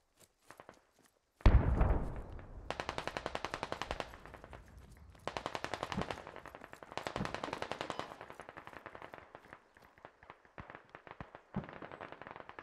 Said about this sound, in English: I'm hearing some shooting over towards the base.